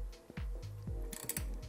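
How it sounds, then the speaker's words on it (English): Torque wrench tightening a water pipe bolt on an Integra engine: a quiet series of sharp ratcheting clicks in quick, uneven rhythm, close up and alone. "we're just gonna torque this guy to 9 foot-pounds"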